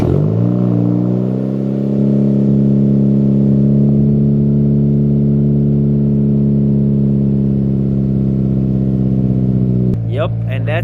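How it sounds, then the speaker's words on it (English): A Honda Civic Si idling loud and steady after a cold start, heard up close outdoors for about ten seconds, with a short burst of talking right at the end. "So let's get that cold start in."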